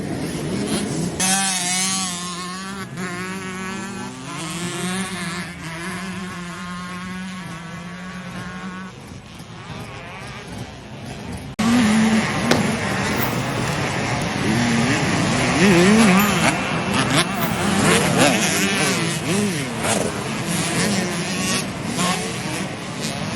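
Two-stroke dirt bike engines buzz and rev during race practice at the Glen Helen 2 Stroke World Championship, with whining, wavering pitches rising and falling continuously, growing louder and denser partway through as more bikes pass nearby.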